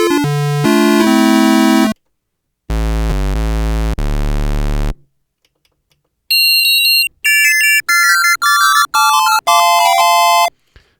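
Oscillator 1 of an Arturia PolyBrute synthesizer plays a square wave in loud, buzzy sustained notes, first low chords and then a run of separate higher-pitched tones divided by short silences.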